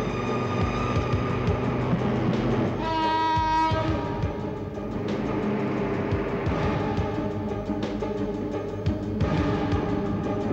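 Train rolling along railway tracks with a continuous rumbling clatter, joined partway through by a short horn blast, heard fairly close and steady.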